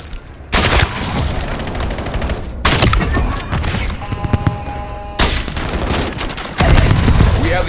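A frag grenade blast and gunfire in Black Ops 7: loud booming bursts and sustained rattling fire come in three heavy waves, close and dense, with no talk over them.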